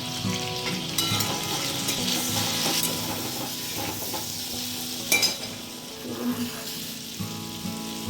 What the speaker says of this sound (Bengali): আলু আর কাঁঠালের বীজ আর ডাঁটা, কুমড়োর ডাঁটা, এইগুলো আমি একটুখানি ভেজে নিচ্ছি